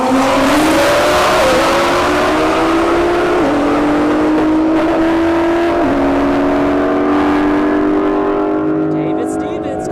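CCO Performance GTR and Mustang S550 drag racing at a motorsports park, a loud, sustained engine roar rising through repeated gear changes before easing off as the cars run toward 170 mph down the track.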